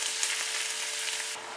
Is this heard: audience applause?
no